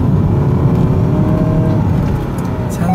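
A 2010 Ford Fusion Hybrid accelerating on a test drive gives a loud, steady engine and road drone with a faint rising whine, heard from inside the cabin with no talking.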